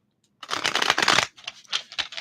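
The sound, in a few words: tarot cards being shuffled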